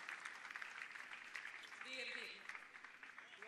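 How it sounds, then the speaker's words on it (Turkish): Crowd applause around a tennis court at a women's match in Istanbul, faint clapping heard under ongoing commentary. "Kortta da alkışlar kopuyor."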